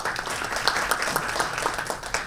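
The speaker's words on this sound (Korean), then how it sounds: "박수로 환영해 주십시오." Audience applause welcoming the first presenter at a space industry conference in Jeju: a continuous wash of many hands clapping, moderately loud, with a few sharper individual claps standing out.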